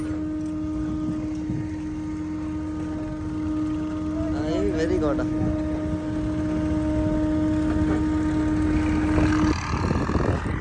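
A Swaraj tractor engine fitted with an old-model silencer drones steadily and loudly throughout, while people talk over it.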